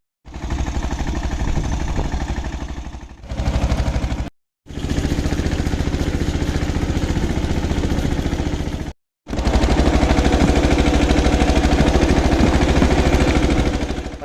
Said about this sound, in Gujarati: મસ્ત બધા ટ્રેક્ટર હાલે.